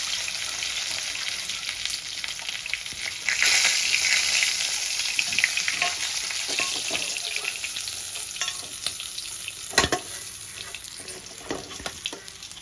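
A fish head sizzles and crackles steadily in hot oil in a home kitchen pan, the frying continuous and close throughout with occasional stirring clatter and a sharp clack near the end.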